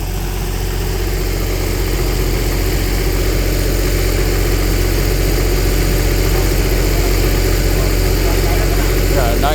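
A welding machine's engine runs steadily at a bridge construction site in the Philippines, a loud, constant mid-low drone that holds without change throughout.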